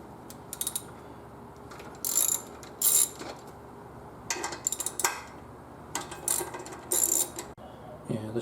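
Ratchet loosening the rear shock bolts on a 2001 Triumph Bonneville, heard as close bursts of rapid clicking separated by short pauses, with faint metallic handling in between.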